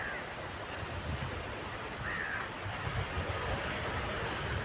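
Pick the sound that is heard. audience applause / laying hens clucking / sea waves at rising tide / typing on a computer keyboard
sea waves at rising tide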